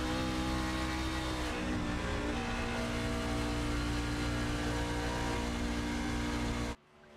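Race truck engine in a racing video game holds a steady loud drone with layered harmonic tones as the truck runs down the back stretch, cutting off abruptly near the end.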